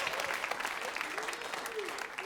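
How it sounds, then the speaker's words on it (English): Audience at a comedy club clapping steadily, a dense, moderately loud burst of applause filling the whole moment with a host's voice over it. "Give yourselves a round of applause for coming out, supporting live comedy."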